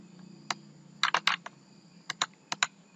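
Computer keyboard keys tapped while retyping an Excel formula, with close, fairly quiet clicks in short irregular clusters and small pauses between them.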